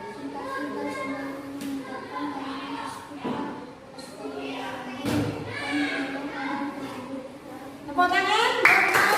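Applause from pupils in a classroom: scattered hand claps and thumps mixed with children's voices and an adult talking, with the clapping swelling louder near the end.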